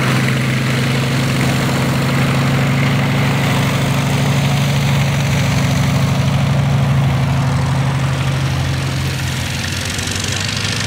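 A rare Edwardian-era aircraft, the only surviving example of its type, performs at an evening airshow above Old Warden, its engine a loud, continuous, buzzing drone that holds steady and gently swells and fades.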